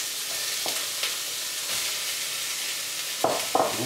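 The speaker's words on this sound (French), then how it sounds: "on a légèrement fait blondir l'oignon" Celery and onion sauté in a pan for a vegetable stew, a steady soft sizzle throughout with a few brief stirring scrapes near the end.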